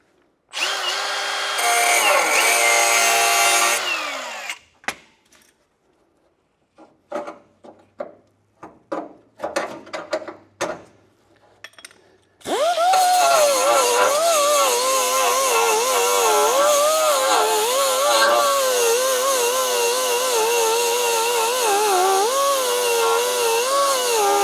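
Power tools cutting out spot-welded sections of a 1973–1979 Ford F100 truck bed: a loud sustained high whine, then a stretch of scattered knocks and clanks, then a long grinding, wavering cut, close and with no talking.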